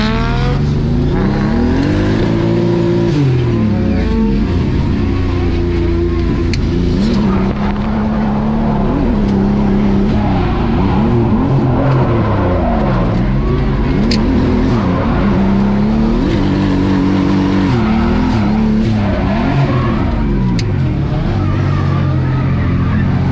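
A turbocharged M50 engine in a BMW E36 revs hard while drifting, rising and falling loudly and continuously with tire squeal, running rough as if missing a cylinder on low boost.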